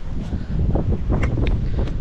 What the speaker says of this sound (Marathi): मस्त गार वारा सुटलाय भाई.